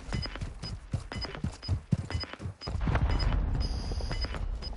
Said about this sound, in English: Shots to our right in front of us.